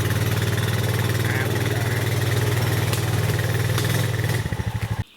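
New four-wheeler engine idling outdoors in the woods, a loud close rapid putter that holds steady, then drops and pulses unevenly before cutting off abruptly near the end.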